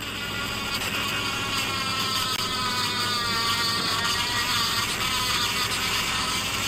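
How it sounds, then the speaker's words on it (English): A grinder strips green paint off the bolts of a sickle mower, giving a continuous loud, harsh whine close by that holds steady throughout. "I'm having to grind this horrible green paint."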